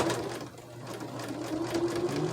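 A sewing machine runs steadily while stitching a crazy quilt, its motor humming and needle clattering in a fast, continuous rhythm, close by with no talking.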